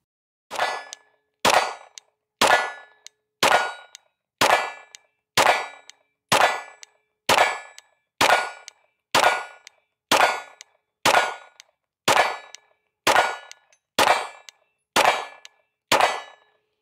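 A PSA Dagger Glock-clone pistol fires 9mm PMC 115-grain FMJ ammunition at an outdoor range: sixteen sharp, loud shots at an even pace of about one per second, each with a short ringing tail, no voices.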